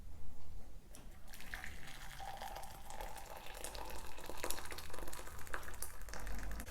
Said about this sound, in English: let's pour out the hot water